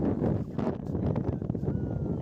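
Steady wind at Dona Paula beach in Goa buffets the microphone with a continuous low roar and rumble that fills the whole stretch.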